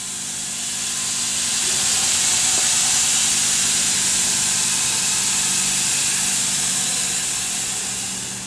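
Semitool SST 421-280 spray bar running during tool setup, a loud steady hiss of spraying fluid that swells in and holds constant over a low mechanical hum, with no talk.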